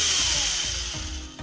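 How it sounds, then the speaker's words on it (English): A power drill runs smoothly with a steady, continuous motor whir and hiss, fairly loud and close, fading slightly at the very end; the drill is fed by a power supply fixed with a 22K resistor on the optocoupler. "the drill machine starts working smoothly again"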